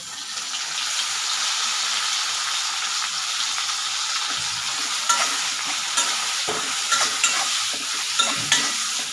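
Tomatoes frying in hot oil in a pan for a spicy katla fish curry, a loud, even sizzle that turns busier midway with clicks and stirring scrapes, no voices.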